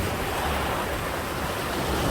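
Rough sea waves on the East Sea coast wash and surge in a steady, loud roar of surf with wind mixed in, and no one speaking.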